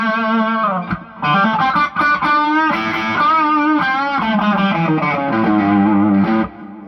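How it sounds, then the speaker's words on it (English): An electric guitar with Seymour Duncan '59 humbuckers, on the bridge pickup with volume rolled back to about 6, plays a lively melodic phrase with sustained, slightly gritty notes and bends, clear and fairly loud without any talking. "This is a bridge pickup with the volume rolled back to, I don't know, around 6."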